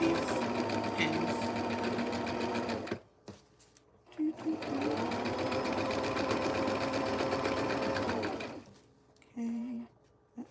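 A chainstitch sewing machine runs in two long steady bursts as it stitches a vest over pins, loud and close, with short pauses between runs and brief quiet gaps.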